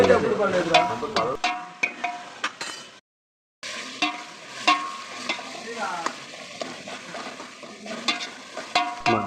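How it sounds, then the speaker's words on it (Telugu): Tomatoes and onions frying in oil in a pan, stirred with a spoon; busy sizzle and crackle with repeated scraping and clinking strokes, close and fairly loud, broken by a brief silence midway. "టమాటాలు వేసి టమాటాలు కూడా బాగా వేయించుకోవాలి"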